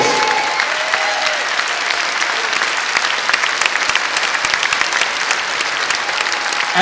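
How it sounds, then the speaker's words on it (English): Audience applause for Bob and Alison at a company gathering, a loud, dense crowd clapping that stays steady and continuous for several seconds. "So give Bob and Alison a big round of applause"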